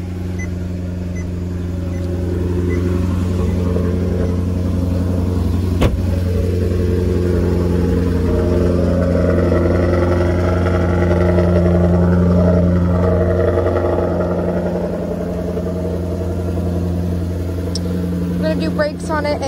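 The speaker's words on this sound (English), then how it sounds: "It's a Ferrari engine." A Maserati with a Ferrari engine runs close by, a steady deep mechanical drone with a slight swell partway through, and someone talks over the engine noise.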